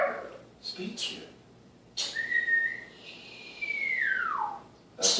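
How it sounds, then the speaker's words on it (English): Several whistled tones, two short chirps followed by a long sliding whistle that rises, holds, then falls away, sounding fairly close, with faint background noise between the notes. "That's a whistle. I understand a whistle."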